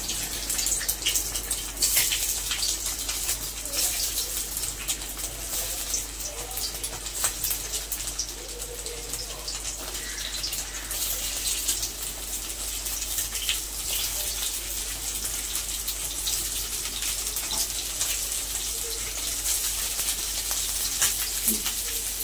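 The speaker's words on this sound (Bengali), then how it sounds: "তেল গরম হয়ে গেছে, এবারে এগুলোকে ভেজে নিচ্ছি।" Ingredients for an egg curry fry in hot oil with a steady, crackling sizzle that holds close and even throughout, no voices over it.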